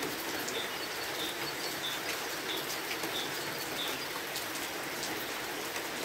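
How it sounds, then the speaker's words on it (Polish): A small bird sings a short, high, repeated call at a steady pace, faint and distant beneath loud, continuous outdoor rain. "Tam gdzieś pięknie śpiewa ptak."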